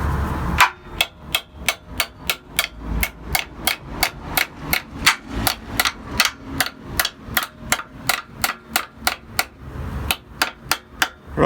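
Rapid steady hammer blows ring out on a 4BT diesel engine build, dozens of sharp metallic strikes in a fast even rhythm, loud and close, with no talking over them.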